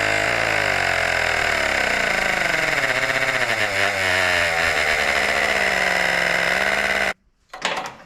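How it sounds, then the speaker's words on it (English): Small portable electric tire pump inflating a motorcycle tire, a loud close buzzing whine with a pitch that slowly dips, running steadily until it cuts off abruptly near the end, followed by a short hiss. "Little tire pump is awesome."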